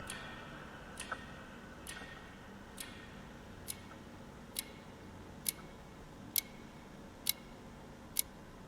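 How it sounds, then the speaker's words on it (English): A clock ticks in the video game The Wild at Heart, a steady run of about ten sharp, evenly spaced ticks that are faint at first and grow louder toward the end, over a quiet background hum. "I'm hearing a clock."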